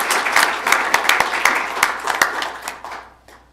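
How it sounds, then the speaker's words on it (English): A school board meeting audience gives a round of applause: brisk, fairly loud clapping with sharp individual hand claps that dies away over the final second. "if you'd all please join me in a round of applause"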